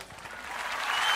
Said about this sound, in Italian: Vi fate partire un applauso spontaneo adesso.